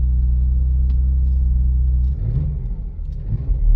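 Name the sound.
Porsche Macan engine revving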